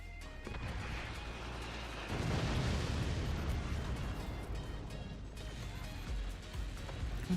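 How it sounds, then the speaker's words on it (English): A large plasma explosion in the Halo video game booms with a dense, roaring wash that swells and lingers for several seconds before easing off. "Oh my god, that was huge plasma."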